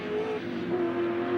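Touring car racing engines drone at Oran Park Raceway during the 1987 Australian Touring Car Championship, a sustained, fairly faint engine note with a slight pitch shift midway, heard from a distance.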